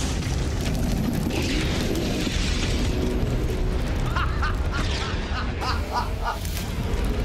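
A methane and air mixture explodes inside a test house and blows out its front, leaving a loud sustained roaring rumble with crackling debris and bursts, while voices shout and cheer over it.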